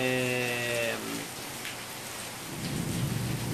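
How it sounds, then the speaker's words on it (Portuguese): Rain falls steadily in a dense, hissing wash that fills the whole clip, loud and near, after a short tonal sound fades in the first second. "Tá uma chuva aqui, então eu não sei se vocês estão me ouvindo perfeitamente, né, por causa da chuva"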